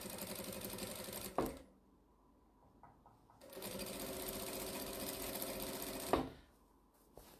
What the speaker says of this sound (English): I'm gonna just sew this